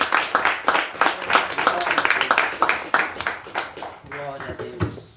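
A church congregation claps together in praise, dense rhythmic applause filling the space with a voice speaking over it toward the end.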